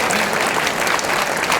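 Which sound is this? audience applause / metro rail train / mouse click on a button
audience applause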